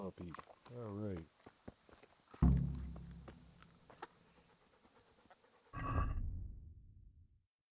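A dog pants in the Kingdom Come: Deliverance video game, in bursts of quick breathy huffs set between heavy thuds and footsteps, with a short whine-like sound near the start.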